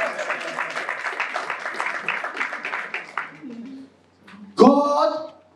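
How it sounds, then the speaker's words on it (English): A church congregation claps during a sermon, a few seconds of scattered applause that dies away, then a brief loud voice. "Can we give a clap of hands?"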